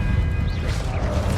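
Expelliarmus spell effect from the Hogwarts Legacy video game, a dense loud magical burst with swooshing sweeps and a crashing impact over a low rumbling bed, lasting a moment.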